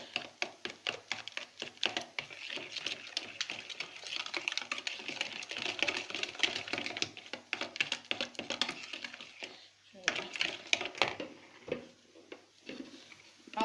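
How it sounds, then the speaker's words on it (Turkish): Sunflower oil and milk whisked for a cake batter, producing rapid, steady clicking strokes against a bowl that run nearly the whole time with a brief pause near the end, close and without talk. "Ve bunları güzelce çırpıyorum."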